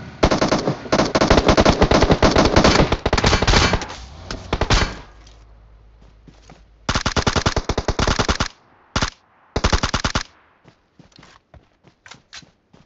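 Automatic gunfire in PUBG on the Erangel map: long rapid bursts of machine-gun fire, then silence, then shorter bursts and scattered single shots, loud and close.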